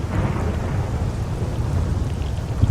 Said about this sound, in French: c'est juste un orage